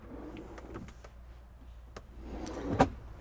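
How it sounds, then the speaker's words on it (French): Drawers are pulled open inside a 2021 VW T6 camper van, giving faint sliding rubs and small knocks, with a sharper thud near the end, fairly quiet and without talk. "Donc, on ouvre et on a 2 tiroirs."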